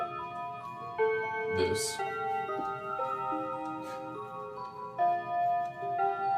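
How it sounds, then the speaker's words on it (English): A wall clock plays the standard Westminster chime, a sequence of sustained bell tones ringing one after another, fairly quiet, with a brief voice and a short knock partway through. "or your standard Westminster chime"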